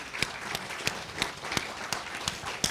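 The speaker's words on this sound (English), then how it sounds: "can we get a round of applause for him?" A church congregation at a Sunday service applauds a stewardship committee member: soft, steady clapping with a few sharper claps standing out at regular intervals.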